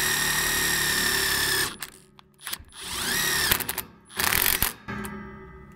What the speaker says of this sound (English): now we will just drive in our grounding strap.